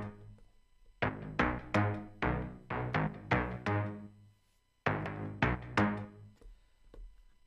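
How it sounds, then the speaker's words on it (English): A low bass riff of plucked, punchy notes in two short phrases separated by a brief pause, fairly quiet and played alone. "so the original bass line sounds like this"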